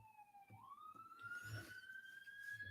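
A police or emergency siren wails steadily outside, its pitch rising and then holding as it passes, with faint background noise and no talk.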